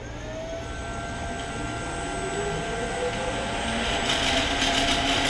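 A 7.5 hp motor run from a VFD spins up a Clausing 1500 lathe, a steady rising whine with tonal lines and broadband hum that grows slightly louder toward the end, with no talk.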